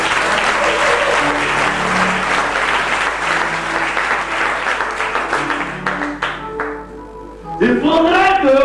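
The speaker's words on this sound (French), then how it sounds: "Si vous croyez, vous acclamez." A church congregation applauds and cheers, loud sustained clapping from a crowd that fades out near the end as a voice comes in.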